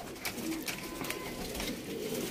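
Pigeons on a rooftop, being stamped during a pigeon-flying contest, give faint, steady cooing beneath a constant hiss of outdoor background noise.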